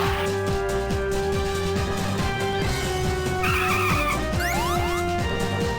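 A car in the video game Metal Slug 4 drives with a steady loud engine drone and rhythmic rumbling pulses, then a high skid squeal rises toward the end over the continuous game audio.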